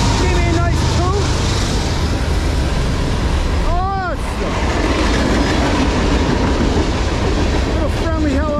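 A CSX freight train, an M406 led by ES44AC-H locomotive 798 with an ES44DC DPU, rumbles past loud and close with steady clattering wheels and a brief horn note midway as people talk over it.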